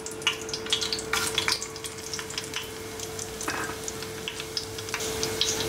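Whole spices (cinnamon pieces, cumin, cloves, black pepper, green and black cardamom) fry in hot oil in a pan for Hyderabadi mutton pulao, giving a steady close sizzle with scattered crackles and pops, no talking.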